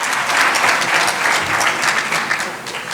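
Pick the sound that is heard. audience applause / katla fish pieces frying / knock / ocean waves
audience applause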